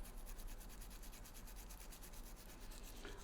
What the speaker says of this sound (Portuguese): Limpo o botão.